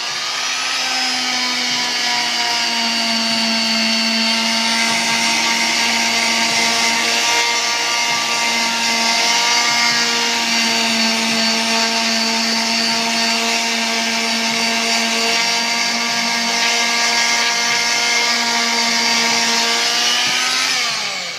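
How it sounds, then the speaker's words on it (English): A small Dremel rotary tool sands hardwood during refinishing work, giving a loud, steady high-pitched whine that runs unbroken for about twenty seconds with no talking. "A little Dremel."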